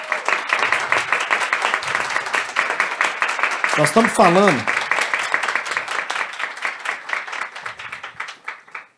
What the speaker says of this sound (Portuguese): Eu queria pedir uma salva de palmas a todos.